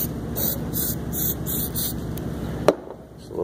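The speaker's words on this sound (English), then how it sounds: "We're going to spray a little adhesive in here to help it stick" Steady hissing of an aerosol can of spray adhesive spraying in several short bursts during car engine repair, ending with a sharp click and a brief quiet tail.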